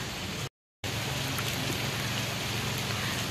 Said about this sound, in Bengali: মেঘলা ওয়েদার, বৃষ্টি পড়ছে বাইরে।